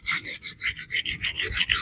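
Shan Zu Peafoul EDC knife sharpened on a budget 300-grit diamond plate, quick rhythmic raspy scraping strokes, about a dozen back-and-forth passes, close and loud with no talking.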